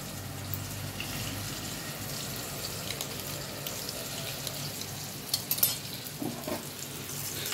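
Rava-coated fish fries on a tawa after being flipped, a steady hissing sizzle with occasional louder crackles and spits, heard close with no talking.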